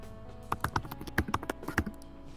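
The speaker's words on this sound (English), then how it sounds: "Oh no, the keyboard typing." Rapid clicking of computer keyboard keys, a quick irregular run of close, fairly quiet taps with short gaps, in a video game scene.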